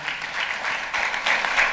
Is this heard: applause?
yes